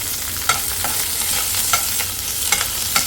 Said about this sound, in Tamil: அடுத்தது கருவேப்பிலையும் சேர்த்துக்கிறேன்